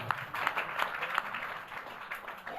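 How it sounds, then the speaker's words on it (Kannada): An audience claps together in a burst of applause at a spoken religious gathering, a crowd of hands patting quickly and evenly, moderately close, with a few louder individual claps and no talk over it. "ಒಮ್ಮೆ ಜೋರಾದ ಚಪ್ಪಾಳೆ"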